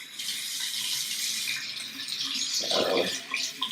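Tap water runs steadily into a sink while a face is washed with a spin-care cleansing device, a continuous close hiss with a heavier splash near the end.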